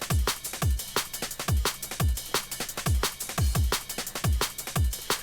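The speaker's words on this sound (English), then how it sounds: "So all together, the drums" A punchy drum break loops at a steady groove, with deep kicks, crisp snares and busy hi-hats played alone, up front and loud.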